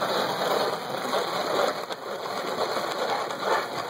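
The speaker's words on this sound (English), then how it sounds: "it's like a little processor. And then just crank her down" A hand-crank mini food processor chops salsa ingredients, giving a steady whirring churn that runs continuously and fairly close, with faint ticks and rattles inside the bowl and no talking.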